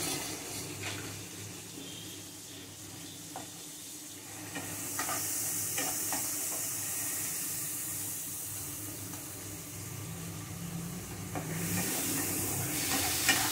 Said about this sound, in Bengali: মশলাটা কষিয়ে নিয়ে আমি এর মধ্যে দেব কাঁচা লঙ্কা বাটা।